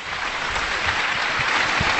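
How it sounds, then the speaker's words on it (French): An audience claps for a speaker walking up to a lectern at a talk on climate warming, producing an even, continuous patter of many hands, slightly muffled and without speech. "je vous propose également de l'applaudir"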